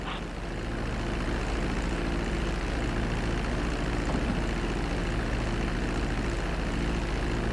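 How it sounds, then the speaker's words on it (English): Airplane engine drone in Grand Theft Auto V during a landing approach, a loud, steady propeller-like hum with a constant low rumble that holds unchanged throughout. "Start to decelerate while you're still in the air, but be careful not to stall the engines."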